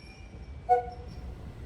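A JR Central train departing Fuji station on the Tokaido Line, a faint distant rumble with a brief two-tone horn sounding once near the middle, quiet and far off.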